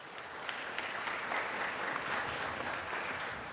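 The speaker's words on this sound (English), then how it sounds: "Let's give Mr. Price a round of applause." A room at a city council meeting gives a round of applause for a former student, a steady, moderately loud wash of many hands clapping for the whole stretch.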